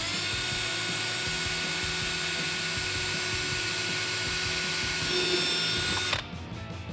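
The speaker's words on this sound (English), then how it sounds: "With your bit, drill to the center of the rivet." A power drill whines steadily at one pitch while boring out a plastic rivet on a Dodge Challenger grille, then cuts off abruptly near the end.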